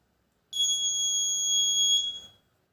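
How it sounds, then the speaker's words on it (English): A shrill electronic buzzer, set off by a PIR motion sensor on an Arduino Nano, sounds one steady, piercing tone for about two seconds, then stops, leaving silence on both sides. "Buzzer is activating."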